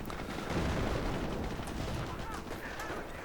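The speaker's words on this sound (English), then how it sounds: "there goes that mortar" Mortar fire and explosions in Company of Heroes during a 4v4 Operation Market Garden match, a continuous rumble of battle with booms and gunfire blending together, a voice speaking over the din.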